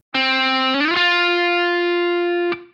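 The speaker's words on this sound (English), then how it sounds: "The second type of slide is called a shift slide" A distorted electric guitar note picked, then slid up to a higher note that sustains before stopping abruptly.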